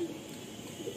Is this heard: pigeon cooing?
yes